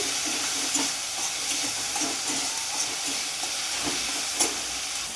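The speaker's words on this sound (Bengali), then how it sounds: "চামচ আদা বাটা দিলাম, আদাটাও একটু ভেজে নেব।" Tomato and ginger paste frying in a pan, a continuous hissing sizzle with faint stirring clicks and a few soft knocks, close and fairly even throughout.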